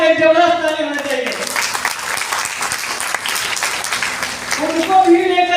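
Loud audience applause fills the hall at a Hindi DXN health and wealth seminar, dense steady clapping rising between stretches of speech at the start and end.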